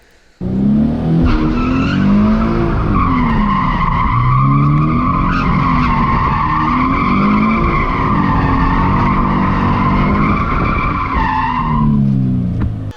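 A car skids and spins out while drifting, its tires squealing loudly in long wavering screeches with the engine revving underneath, close and sustained for most of the stretch.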